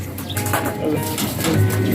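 A racing pigeon coos softly and close by in a low, rolling burble, with faint background noise.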